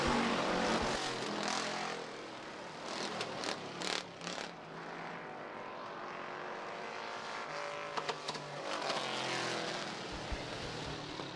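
305 sprint cars roaring through turn four at Rapid Speedway during a heat race, a loud continuous engine drone with cars passing, alone without talking.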